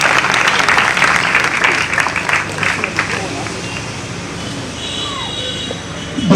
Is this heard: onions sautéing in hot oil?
no